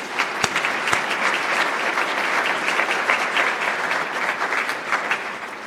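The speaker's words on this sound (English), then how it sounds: "I do want to give a round of applause to all of them" An audience applauds sponsors at a formal introductory event, steady dense clapping that holds throughout with a few sharper claps standing out near the start, no voices over it.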